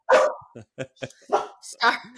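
A dog barks several times in a small indoor room, short sharp yaps spaced irregularly, close and loud, interleaved with brief moments of talk.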